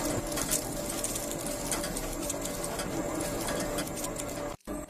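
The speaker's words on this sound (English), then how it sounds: "As the drum turns, the chips are evenly coated, giving them their delicious flavor." Industrial potato chip seasoning drum turning in a snack factory as spices coat the chips, giving a steady close mechanical rattle and whir with constant clatter throughout, briefly cutting out near the end.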